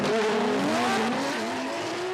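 Two 2JZ-powered Toyota GR86 drift cars slide through a drift competition course, loud engine roar with tire squeal and rising, wavering engine tones, continuous and close.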